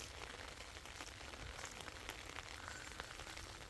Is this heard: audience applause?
no